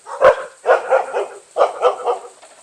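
Dogs in a breeding setting barking in repeated bursts, a sharp single bark followed by two clusters of three quick barks, close and loud with no talk over them.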